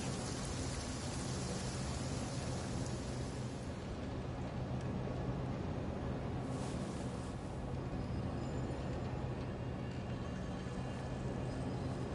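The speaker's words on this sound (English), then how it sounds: "It's raining again?" In Genshin Impact, a continuous heavy rain hisses evenly at a steady level throughout, with no voices over it.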